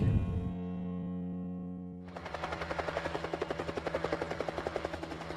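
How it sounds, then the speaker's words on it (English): A helicopter gathering wild horses: its rotor thumps in a steady rapid pulse, loud and close, after a few seconds of a lower droning engine hum. "to learn more about gathering horses with helicopters, we take to the air"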